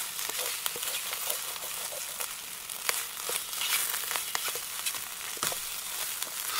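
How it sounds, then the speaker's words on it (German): Eggs fry in a pan over a Soto Windmaster gas stove, giving a dense, steady sizzle with scattered crackles and pops throughout, close and alone without talk. "Ich habe mir ewig keine Eier mehr gemacht in der Pfanne."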